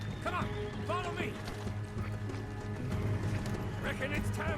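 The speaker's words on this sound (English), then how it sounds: "See the horses?" Horse hooves clip-clop in a video game, steady and mid-distance, with voices murmuring underneath and a few brief whinny-like cries.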